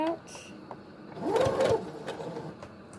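A sewing machine stitching a fabric face mask gives a short whirring run under a speaking voice, with a few soft clicks of handling around it.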